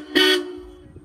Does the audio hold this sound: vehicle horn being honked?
yes